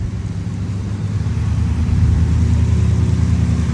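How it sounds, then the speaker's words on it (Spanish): Street traffic in a rainy city rolls past as a dense, continuous rumble of car engines, swelling slightly louder toward the end without distinct individual passes. "Hay mucho carro."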